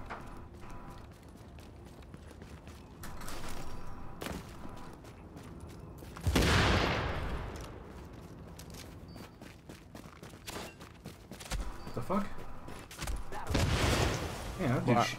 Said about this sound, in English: Shooting us from a long distance back here.